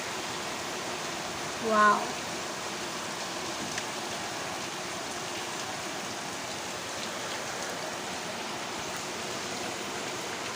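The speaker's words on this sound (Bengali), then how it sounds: "আজকে দেখো কত বৃষ্টি" Heavy rain falls outside a window in a steady, continuous wash of noise. A brief voiced exclamation breaks in near the start.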